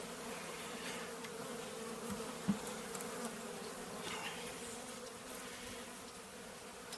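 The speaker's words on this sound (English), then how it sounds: "The bees, they're flying all over the place." Honey bees from a small fall swarm cluster buzz around hives in a constant, soft hum outdoors, with individual insects drifting closer and away.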